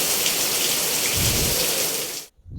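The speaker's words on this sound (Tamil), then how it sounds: "எவ்வளோ மழை பெய்யுது பாருங்கள் சரியான மழை காலையிலே" Heavy cyclone rain pours in a dense, steady roar close by, then cuts off abruptly near the end.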